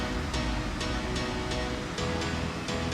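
Gullfoss waterfall in Iceland roars as a dense, constant wall of crashing water, loud and close, with a faint rhythmic pulsing in the spray.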